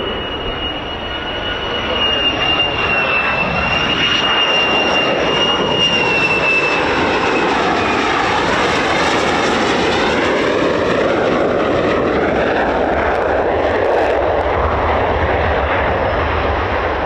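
Military jets depart RAF Lakenheath airbase, home of the 48th Fighter Wing F-15s and F-35s, with a loud, sustained jet roar and a high whine that fades as a broad rumbling blast builds and holds for the whole stretch.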